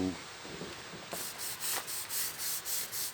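A soft-bristle brush with cleaner scrubs grime from a marble headstone in a run of quiet, rhythmic back-and-forth strokes, close and faint, after a brief quieter start.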